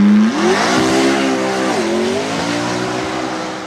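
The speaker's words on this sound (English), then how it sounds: "McLaren P1 GTR." A McLaren P1 GTR track-only supercar revs hard, its engine note rising, dipping and climbing again in a loud, close sweep lasting a few seconds, with no voices.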